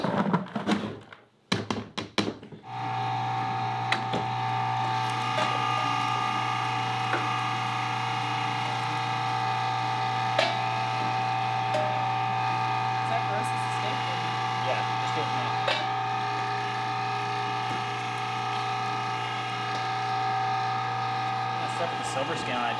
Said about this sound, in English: So this is a half horsepower, and it is just eating through this meat.